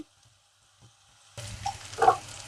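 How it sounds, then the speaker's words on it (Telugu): Onions frying in a pan for a thick-gravy chicken curry, stirred now and then. The sizzle and scraping start suddenly after a near-silent moment and stay moderately loud and close. "ఆనియన్స్ మంచి ఇలా కలుపుతూ ఉండాలండి లేకపోతే ఒకే వైపు మాడిపోయినట్టుగా అయితే"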